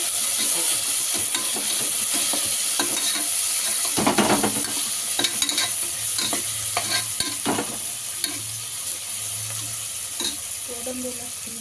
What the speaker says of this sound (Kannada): ಈರುಳ್ಳಿ ಈಗ ಫ್ರೈ ಮಾಡಬೇಕು